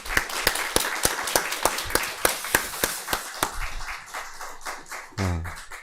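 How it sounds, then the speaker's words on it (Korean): Applause from a church congregation during a Sunday morning Easter service, opening with a run of sharp, evenly spaced claps that swell into a dense, sustained round before fading, with a brief voice near the end. "큰 박수로 하나님께 영광 돌리겠습니다."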